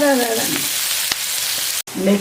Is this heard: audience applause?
no